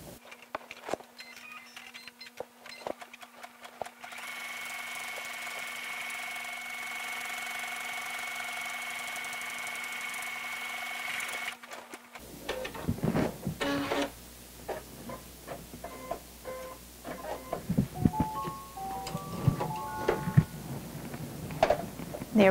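Embroidery machine stitching a monogram in the hoop, a quiet steady whirring hum for several seconds with fine rapid ticking, then stopping into scattered clicks and handling noises.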